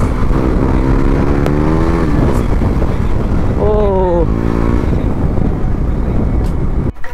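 A motorcycle engine rumbles steadily on the Katra–Jammu–Udhampur main road, loud and close with heavy wind noise, as another vehicle's rising engine whine passes by midway.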